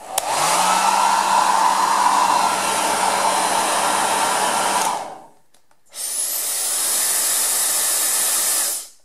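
A Cecotec hair dryer set to its maximum power roars with a steady, loud airy whoosh for about five seconds, cuts out briefly, then starts again with a rising whine before running on strongly.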